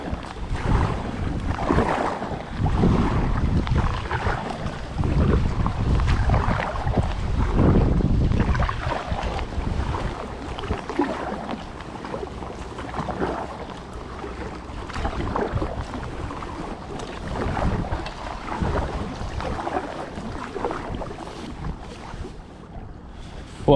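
A fishing kayak, the LifeTime Tamarack Angler, being paddled across windy open water, with steady wind buffeting the microphone, water sloshing and repeated paddle strokes dipping and splashing close by throughout.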